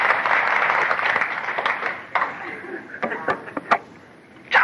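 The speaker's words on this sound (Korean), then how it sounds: "이럴 때 좀 박수 좀 치고 그랬지 뭘." A dense wash of applause at a Catholic charismatic renewal seminar fades out over a couple of seconds, leaving scattered claps and brief noises that trail into quiet.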